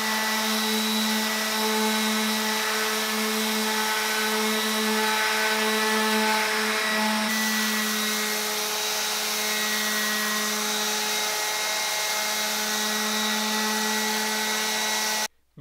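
A power sander runs on a workbench assembly table, producing a steady, close motor whine with a rough buzzing undertone that changes character partway through and then cuts off at the end.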